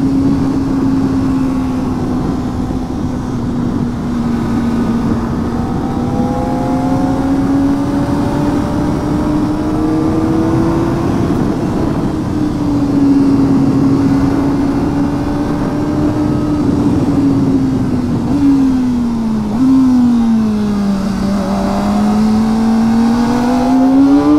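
A steady Kawasaki Ninja ZX-4RR motorcycle engine drone from onboard, pitch climbing gradually and dipping at a gear change, continuous and fairly loud with wind noise underneath.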